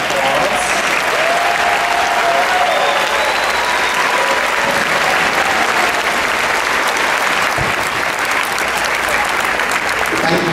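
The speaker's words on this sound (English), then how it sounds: "let's give them a round of applause." At an elementary school fifth-grade graduation, a large audience applauds its teachers with loud, continuous clapping that fills the room. The applause holds steady throughout, and faint voices and whoops can be heard within it.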